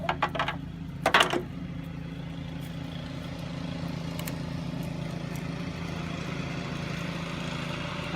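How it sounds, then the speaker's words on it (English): A neighbour's lawn mower drones steadily in the background, a continuous low engine hum that stays moderately loud throughout, with a few brief clatters near the start. "that guy's mowing his lawn again."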